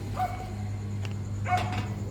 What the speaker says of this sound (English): It's an inbred Filipino dog.